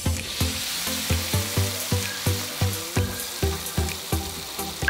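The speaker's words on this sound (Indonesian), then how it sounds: "selanjutnya kita tumis bumbu yang sudah saya ulek kasar sebelumnya" Coarsely ground spice paste being sautéed in a hot pan, with a continuous sizzle broken by rhythmic scraping strokes of stirring, close and fairly loud.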